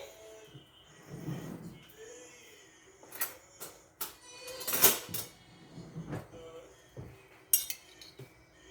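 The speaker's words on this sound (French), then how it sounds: "je vais la mélanger" Spaghetti bolognese is stirred in a pot with a utensil, giving soft scraping and occasional metallic clinks against the pot sides. The sounds come in scattered, quiet strokes at close range.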